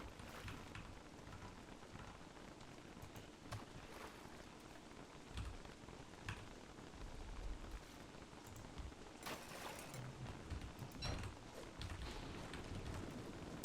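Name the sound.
rain falling in a video game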